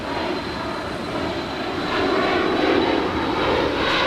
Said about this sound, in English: 25 right at Foxtrot, clear for takeoff.